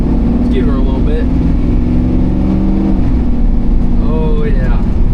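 A loud diesel truck engine, run after ten years of sitting abandoned, hums low and steady, briefly rising in pitch as it revs, with rattling and road noise throughout.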